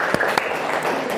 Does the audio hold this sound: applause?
yes